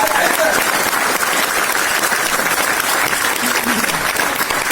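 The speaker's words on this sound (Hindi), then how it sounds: "जोरदार ताली दीपक सिंह जी के लिए चाहूंगा" Vigorous applause from a workshop audience at a network marketing training event, continuous dense clapping with faint voices mixed underneath.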